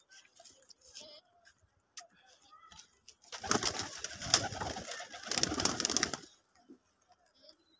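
Pigeons coo softly in the background, then a burst of flapping wings rushes up close for a few seconds before settling back to quiet cooing.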